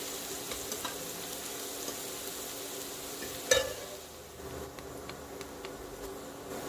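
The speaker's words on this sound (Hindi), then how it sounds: "तो प्याज भी डाल दिया। अब इनको अच्छी तरह से हमें भूनना है।" Onions frying in a pan with a steady, soft sizzle and faint stirring, one sharper clink partway through, then continued gentle hiss.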